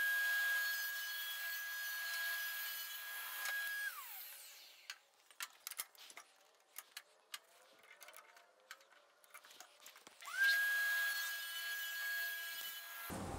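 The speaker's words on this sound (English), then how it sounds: "we're going to shave off just a little bit of that corner so it can" A wooden board has a corner shaved off with a power tool, which whines at a steady pitch, winds down and stays quiet through scattered rubbing and handling noises, then spins up again for a few more seconds, close with no talk.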